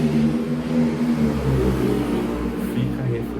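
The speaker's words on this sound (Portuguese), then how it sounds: "Fica a reflexão aí com esses barulhos de moto." A motorcycle engine drones and rumbles outside, a steady mid-pitched whir that holds and shifts slightly, heard at moderate distance without talk.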